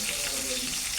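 Prawns seasoned with asafoetida and salt fry in a pan, giving a dense, continuous sizzle throughout.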